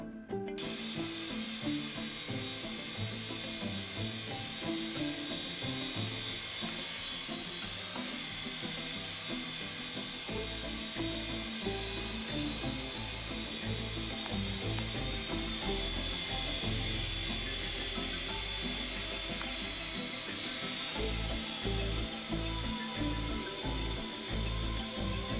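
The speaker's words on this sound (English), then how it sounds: "Easiest helicopter I've ever run." A Syma S200 toy remote-control helicopter's motor whines steadily and evenly throughout, a constant buzzing drone with rotor hum, close by and without pauses.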